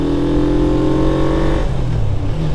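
A motorcycle on its stock exhaust revs loud and close, its droning engine note holding steady before dropping and settling into a rougher idle.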